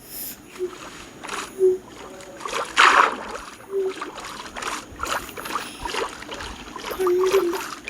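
A boat moves through water in a video game, with rhythmic paddling splashes and trickles recurring every second or so and one louder splash early on.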